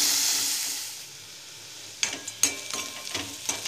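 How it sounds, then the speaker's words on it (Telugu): Onions and turmeric fry in a pan, a steady bright sizzle fading over the first two seconds, then sharp scraping and stirring knocks break in from the midpoint over the continuing hiss. "ఇప్పుడు కొంచెం పసుపు కూడా వేసుకొని బాగా వేయించుకోవాలి"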